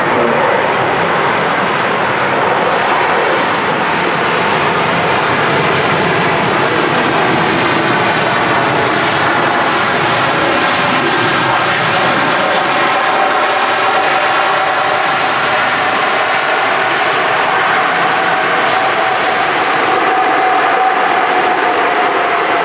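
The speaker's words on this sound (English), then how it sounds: "A380 bumping that down, wasn't it?" An Airbus A380 lands hard at Manchester Airport. Its loud, broad engine roar holds steady and unbroken for over twenty seconds.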